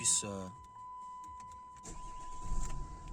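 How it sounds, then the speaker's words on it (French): A car engine in a sequential-gearbox car cranks and catches, rising briefly then settling into a low idle, near and fairly quiet, after a short burst of talk at the start. "Alors attendez, je vais mettre la voiture en route."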